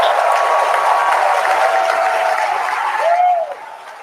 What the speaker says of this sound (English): As you heard there by the call out and from the crowd behind us, Starship's 6 Raptor engines have successfully shut down.